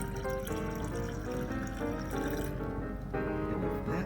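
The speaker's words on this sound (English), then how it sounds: "we take the almond milk in the measuring cup, okay, and we pour it" Homemade almond milk pours slowly from a measuring cup into a carafe, a steady continuous liquid stream with shifting gurgling tones, close and fairly loud with no talking.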